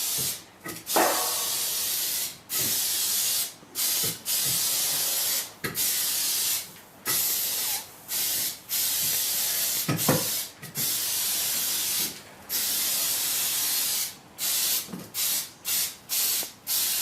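Aerosol rust protection sprayed onto the back of a rusty Ford Transit front wing, in a long run of close, loud hissing bursts separated by short pauses, no talking.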